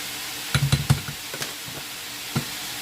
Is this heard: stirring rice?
yes